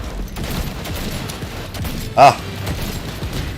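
Video game gunfire: one short, sharp burst of shots partway through, standing out over a steady background of battle noise, with a brief exclamation from a player.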